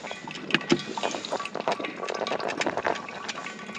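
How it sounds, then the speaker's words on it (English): A small Black & Decker single-serve coffee maker brewing while camping in a winter snowstorm, with steady bubbling, gurgling and hissing of hot water, close up and continuous throughout. "Handles this Black & Decker coffee maker, no problem."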